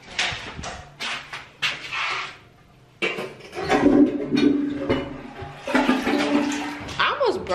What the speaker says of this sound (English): Broke my nail twice trying to flush that toilet.